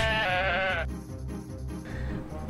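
A sheep in the Animal Jam video game lets out a loud, wavering bleat followed by a softer second cry, heard over an underlying musical backing track.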